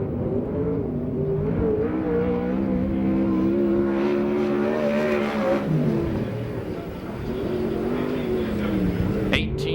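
A USAC/CRA sprint car roars through a qualifying lap at Perris, its engine a loud, steady high-revving drone that dips briefly mid-lap and climbs again, with a sharp click at the end.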